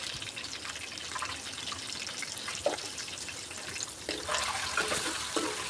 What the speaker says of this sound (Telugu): ఇప్పుడు అలా వేగుతున్నప్పుడే కొంచెం పసుపు వేసుకొని ఫ్రై చేసేసుకుందాం